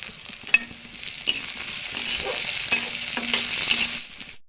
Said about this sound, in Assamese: বিলাহীখিনি বেছি নাভাজোঁ,